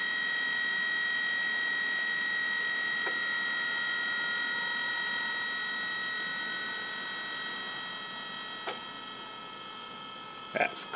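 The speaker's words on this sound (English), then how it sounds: "I'm going to drop the voltage and show that the motor will try and maintain its speed" The main drive BLDC motor from an HP 2605 LaserJet printer runs on a bench supply as its voltage is lowered, a steady high whine and hum that slowly softens, with a few sharp clicks near the end.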